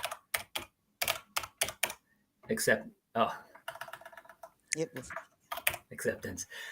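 Computer keyboard typing in bursts of quick clicks and key taps, fairly close, interleaved with someone speaking briefly.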